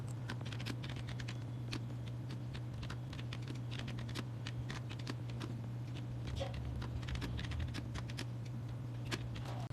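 Someone types on a computer keyboard while setting up an Arduino project, and the quick, irregular key clicks patter steadily throughout over a low constant hum.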